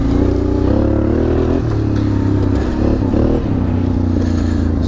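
An old Honda Transalp XL600V motorcycle ridden close up, its engine loud and throbbing with rises and dips in revs over a few seconds, no voices.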